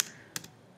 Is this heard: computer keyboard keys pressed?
yes